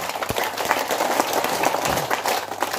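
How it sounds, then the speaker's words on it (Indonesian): Audience applause for Bapak Simon at an Indonesian public gathering: dense, steady clapping from a crowd that continues throughout, with a few louder claps near the start. "Kita tepuk tangan untuk Bapak Simon."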